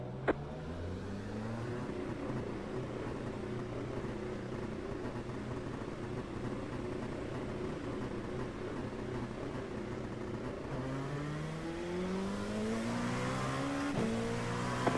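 An LMP2 prototype race car accelerates hard at Le Mans in heavy rain and spray, its engine note climbing steadily through the gears, loud and close from onboard for the whole stretch.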